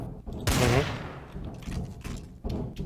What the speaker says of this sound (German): Ich habe geschossen